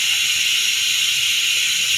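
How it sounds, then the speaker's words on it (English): A model steam locomotive's sound unit blows off steam in a loud, steady hiss that holds without pause, close and alone. "Blowing off some steam, it's the steam"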